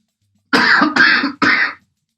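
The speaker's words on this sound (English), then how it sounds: "He coughs." A man coughs three times in quick succession, harsh and loud, close to the mic, each burst short and separated by brief gaps, then silence.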